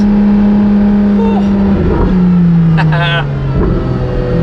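A Ferrari LaFerrari engine rumbles steadily, then the revs drop and shift down into first with a brief sharp crackle from the exhaust, loud and close.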